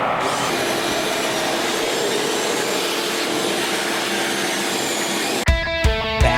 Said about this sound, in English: The construction guys determine the quickest solution is to sand down the two surfaces of the top of the stand.